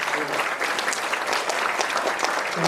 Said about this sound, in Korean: 큰 박수로 다시 한번